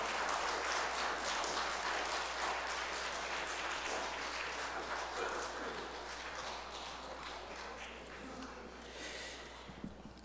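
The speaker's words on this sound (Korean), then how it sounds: "우리 다시 한번 박수로 하나님께 영광 돌리겠습니다" Congregation applause fills a Christmas thanksgiving service at a Methodist church, a steady, dense wash of clapping that runs through the whole stretch without a break and fades slightly near the end.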